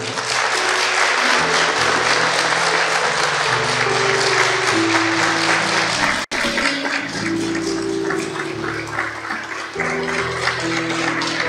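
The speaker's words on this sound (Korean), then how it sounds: "힘찬 박수 부탁드리겠습니다" Sustained applause from a church congregation at a pastor's installation thanksgiving service, a steady loud wash of clapping over held organ or keyboard chords, with a brief dropout midway before it resumes.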